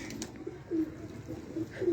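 Pigeons coo softly in short, low burbling phrases, repeating several times over a faint background hum, fairly close with no talking.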